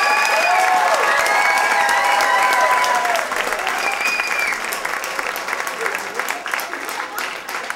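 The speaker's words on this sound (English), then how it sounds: "so let's give them a big round of applause." An audience at a high school pop concert claps loudly and steadily, a dense wash of applause with some cheering that tapers slightly toward the end, with voices mixed in.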